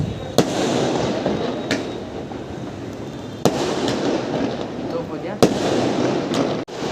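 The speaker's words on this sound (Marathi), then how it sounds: "सो बाहेर फुटतायत फटाके" Firecrackers burst outdoors in the evening: about six sharp, separate bangs at uneven intervals over a steady background hum.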